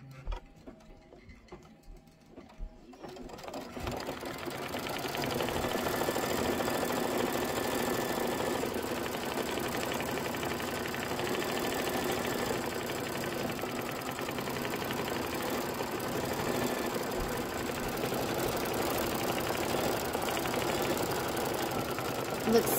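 A quilting machine stitches Kimberbell Candy Corn Quilt Shoppe pinwheel and border blocks, starting after a few quiet seconds and then running as a steady, even mechanical whir with a fine rapid stitching rhythm.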